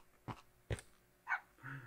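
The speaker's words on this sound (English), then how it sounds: "Is that another dog over there?" A dog in the Minecraft video game gives a few short, separate barks and yips, the last one drawn out like a whine, heard clearly with no talking.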